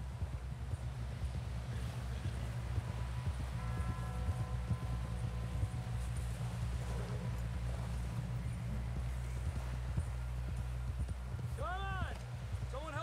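Horse hooves clip-clop in a steady trotting rhythm in Red Dead Redemption 2, set over a low rumbling background with wind and occasional game voices.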